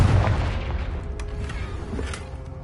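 Confringo blasting spell detonating in a video game: a heavy nearby boom at the start, followed by a sustained low rumble and scattered crackles as it dies away.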